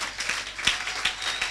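A church congregation claps and applauds in acclaim of Jesus, a steady patter of many hands with a few sharper claps standing out, moderately faint.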